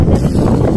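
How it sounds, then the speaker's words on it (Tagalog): Strong, cold wind buffets the microphone in a rose garden, a loud low rumbling roar with gusty surges throughout the short moment. "Yan, sobrang hangin."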